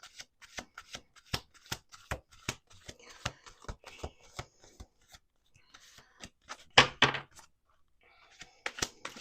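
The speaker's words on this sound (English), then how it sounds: "Okay, 2 more shuffles." A deck of cards shuffled close up in quick repeated riffles and bridging slaps, with a brief pause and a louder burst of shuffling near the end.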